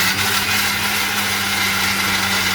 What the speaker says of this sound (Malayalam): അതിപ്പോൾ മിക്സിയിൽ വെച്ച് അരയ്ക്കാൻ പോവാം.